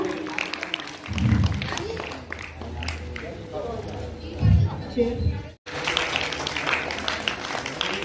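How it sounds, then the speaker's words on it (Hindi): A crowd at a school Independence Day event applauds to welcome guests, with scattered claps running steadily through and a few louder low thuds, while a voice talks over the clapping. "सब जोरदार तालियों से हमारे सभी अतिथियों के लिए जोरदार करताल ध्वनियों से स्वागत करें उनका।"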